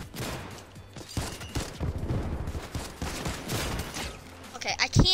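Gunfire from a six-shooter revolver and an infantry rifle during a Fortnite game fight, with a fast run of shots and bursts up close. A player talks over the shooting.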